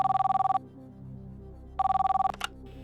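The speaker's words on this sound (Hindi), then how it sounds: "फोन लगाया जाए गीता जी को" A telephone rings for a game show contestant on Kaun Banega Crorepati, two loud, close bursts of rapid electronic trilling separated by a pause, followed by a brief clatter as the line picks up.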